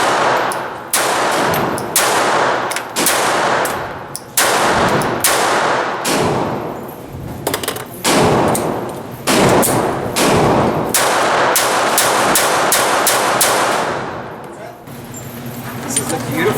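A Glock 42 pistol fires repeatedly at an outdoor range, sharp loud reports coming in quick strings with brief pauses between volleys, the shots dominating throughout.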